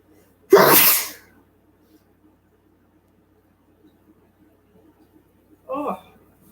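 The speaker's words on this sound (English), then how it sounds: "Sorry, I feel like I have to sneeze." A person sneezes loudly once indoors, followed several seconds later by a shorter second sneeze-like burst, with near silence in between.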